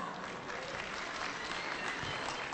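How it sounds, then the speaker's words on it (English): Audience applause after an African tribal dance at a school event in Bahrain, a steady, dense wash of clapping from a large crowd sustained throughout without a break. "Please give them a round of applause."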